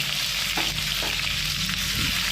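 Chopped onion frying in a pan for a Bengali-style chicken and potato curry, a steady close sizzle with a few soft scrapes and stirs and no voices.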